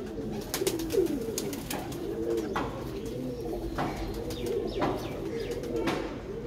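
A golden-coloured pigeon coos in soft, repeated rolling phrases, steady and close, with faint chirps and background noise around it and no talk.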